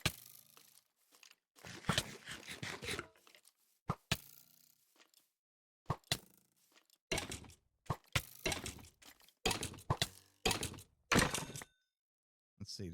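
Skeleton arrows strike a player's helmet in Minecraft: short, crunchy thuds and cracks arrive in scattered bursts with silent gaps between, some landing in quick clusters, all close and fairly quiet.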